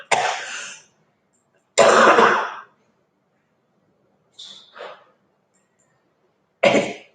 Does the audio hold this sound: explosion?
no